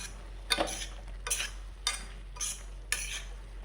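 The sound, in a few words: stirring spices into brinjal pepper fry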